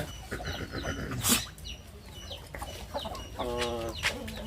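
A rooster on a farm of native chickens and Muscovy ducks gives loud clucks and a crowing call, with other fowl and bird sounds scattered around it.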